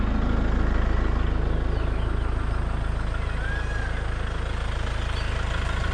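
A farm tractor idles with its grapple attached, a steady low diesel rumble that runs unbroken and close, with no voices over it.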